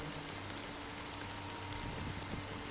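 Fine drizzle of rain from Honkai: Star Rail, a soft, even patter with scattered drop ticks, faint and continuous with no voices.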